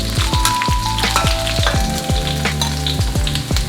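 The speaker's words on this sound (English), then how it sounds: "Add about 3 to 4 tablespoons of oil to the wok. Make sure it's nice and hot, and then add your chives." Chives sizzle and fry in hot oil in a wok, a steady close crackle with repeated sharp stirring clinks throughout, no talk.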